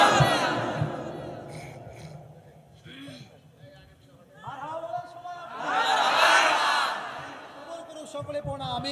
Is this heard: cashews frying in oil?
no